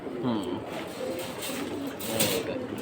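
Pigeons cooing softly in a loft among pairs offered for sale, low repeated coos sounding under a steady background murmur throughout.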